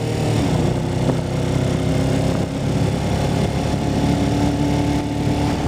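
A motorcycle engine running steadily, close and loud, with a constant low drone throughout and no talk over it.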